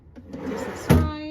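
A drawer slides open in a table in a hotel studio room, a short soft scrape followed by a brief thump, close and fairly quiet.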